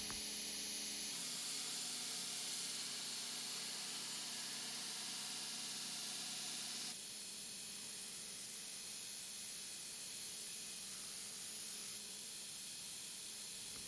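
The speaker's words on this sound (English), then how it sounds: "I'm grinding with a knife parallel to my platen" A belt grinder runs steadily against a forged chef's knife blade held flat on the platen, giving a continuous loud hiss with no speech; the grinding texture shifts abruptly around seven seconds as contact pressure changes.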